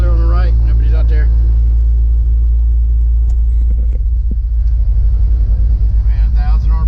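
An aircraft engine cranks and catches, a steady low rumble throughout with a rising pulsing beat near the end as it starts, while someone talks over it at the beginning and close.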